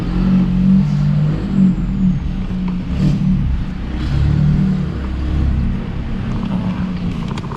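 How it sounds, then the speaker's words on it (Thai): An Isuzu CAB4 pickup truck reverses into a parking spot, its engine humming close by with a few gentle rises in revs and low rumbling throughout, and no voices. "เดี๋ยวถอยรถจอดให้ลูกค้าก่อนนะฮะ"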